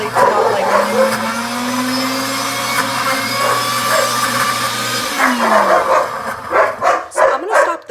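A deluxe cooking blender whirs loudly while mixing a heated veggie marinara puree, its motor pitch rising and holding, then cutting off. Dogs bark repeatedly throughout, growing louder and more frequent once the motor stops.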